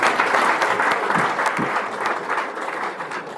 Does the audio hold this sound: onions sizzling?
no